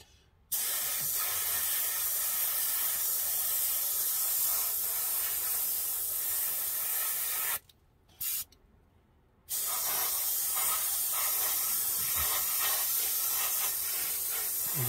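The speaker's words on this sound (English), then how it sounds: "looks like I'm spraying window tint." Testors bottle enamel paint sprays from an airbrush onto a scale model car body, a loud, steady hiss broken by two short pauses before it resumes.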